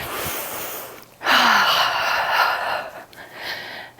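Deep breathing during a calming yoga session: a slow, close breath is followed by a long, airy exhale, then quieter breaths trail off in a hushed room.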